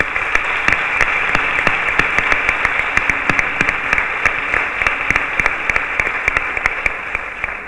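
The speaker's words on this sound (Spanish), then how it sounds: "le pido un fuerte aplauso también a todos por la colaboración" An audience at a Spanish fair poster and book presentation applauds, a continuous bed of clapping with distinct sharp individual claps popping out near the front, steady and fairly loud for several seconds.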